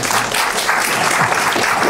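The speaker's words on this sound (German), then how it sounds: "Das war der Applaus." A crowd claps in steady, dense applause that holds at an even, loud level for the whole stretch, with no voices cutting through.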